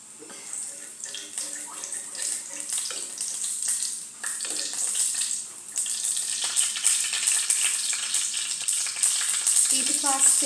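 Oil heating and frying in a pan for a cowpea tempering, a steady bright sizzle that grows denser and louder over the clip, with occasional clinks of a utensil nearby.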